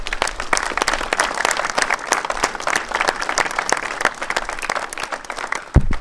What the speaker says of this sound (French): je crois qu'on peut l'applaudir à nouveau.